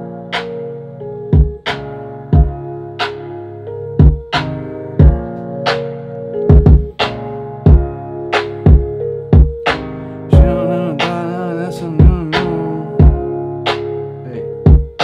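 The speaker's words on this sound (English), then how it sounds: "put some gross beat on that piano that I was using" A piano in FL Studio treated with a Gross Beat effect plays sharp rhythmic chords that cut off abruptly, repeating in a steady chopped, gated pattern, loud and alone with no talking.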